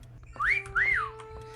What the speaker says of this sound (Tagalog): Sumipol ka.